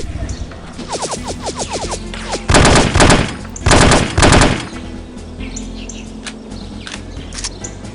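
Sniper rifle fire in the spy shooter No One Lives Forever, several heavy bursts of gunfire in quick succession midway, with smaller clicks and chirping effects between them.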